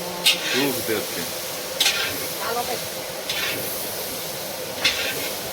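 Food frying in a pan as a mother cooks at night, a soft steady sizzle and hiss running underneath, with occasional sharp clinks of stirring and a voice talking over it.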